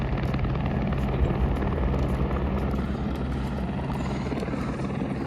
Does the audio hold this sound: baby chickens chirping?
no